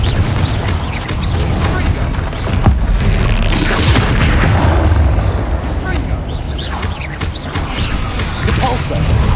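Confringo and Depulso spells blast in Hogwarts Legacy, a dense run of loud booms and crashing impacts with a voice calling out now and then.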